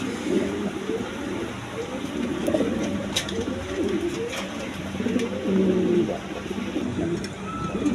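Several pigeons of various breeds coo in a repeated, rolling rhythm at close range, their soft throaty calls overlapping against steady background noise.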